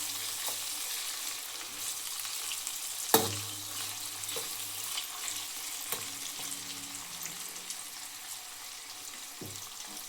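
Onions frying with salt for a field bean curry, a continuous close sizzle broken by a few sharp scraping stirs and a loud knock against the pan.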